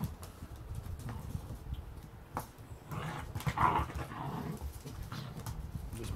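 Puppies romp and play with their mother dog, with soft scuffling, thumps and brief yips over low ambient noise and no speech.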